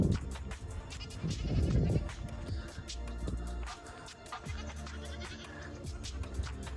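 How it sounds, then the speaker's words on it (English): A billy goat on a farm bleats in loud, wavering calls close by, with other animal sounds and farmyard noise around it. "This is Oreo. Oreo, the Billy."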